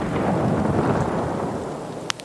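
Heavy rain pours steadily while a deep roll of thunder rumbles through the Reserve map in the video game Escape from Tarkov, loud and close, ending with a short sharp crack.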